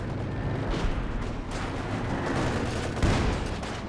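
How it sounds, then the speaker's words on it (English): An artillery barrage in the World War II strategy game Company of Heroes 2, heard as a rolling series of distant booms and crumps over a steady battlefield rumble, with one heavier impact near the end. "Gets this barrage onto the Obers."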